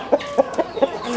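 A Burmese fighting rooster gives four short, close clucks spaced about a quarter second apart, over faint background noise.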